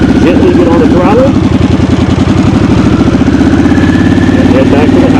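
A 2022 Harley-Davidson Sportster S motorcycle engine runs loud and close, a steady throbbing idle with a rapid pulsing beat as the rider gently eases onto the throttle, with a voice speaking over it.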